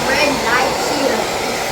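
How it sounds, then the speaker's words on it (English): A hair dryer blows steadily and loudly up close while a boy's hair is dried, a continuous airy whoosh with no pauses. "Keep your head still, Poppy, so I can dry it."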